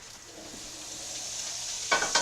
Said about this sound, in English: Dropping the butter in.